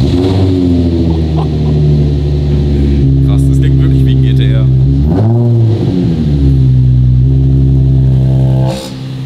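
A car engine revs repeatedly at standstill on a dyno, its 90mm sport exhaust with the flap held open giving a loud, deep, sustained drone that rises and falls; voices talk over it briefly.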